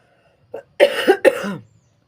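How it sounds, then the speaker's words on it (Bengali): A few harsh coughs in a quick cluster, close to the mic, starting with a short one and then two stronger bursts. "সরি কাশি হচ্ছে খুব"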